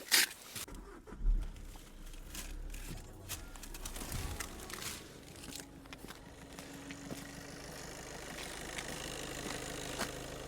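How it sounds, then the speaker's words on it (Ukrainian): A Volkswagen Golf 7 engine turns over and settles into a steady, low idle, heard close with a faint hum and occasional light clicks. "Ви чуєте, як працює двигун?"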